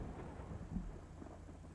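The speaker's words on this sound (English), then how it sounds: "Is there a thunderstorm outside on GTA?" Thunder rumbling during a thunderstorm in the GTA Online video game: a faint, low, muffled rumble rolling on for under two seconds, with a small swell midway.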